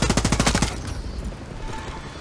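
Rapid automatic gunfire in Far Cry 6, a burst of loud evenly spaced shots that cuts off after under a second, leaving a decaying echoing rumble.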